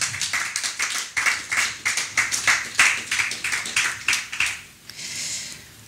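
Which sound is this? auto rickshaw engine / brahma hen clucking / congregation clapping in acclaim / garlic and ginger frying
congregation clapping in acclaim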